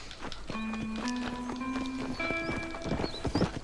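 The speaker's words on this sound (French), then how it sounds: "Alors, on va appeler notre cheval." A horse in the Red Dead Redemption video game clops along at a quick, steady pace and gives a drawn-out whinny, loud and close, with a faint voice and game sounds underneath.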